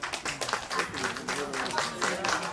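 Audience at a birthday souvenir book launch claps in a brisk, continuous burst, with a voice faintly audible over the applause.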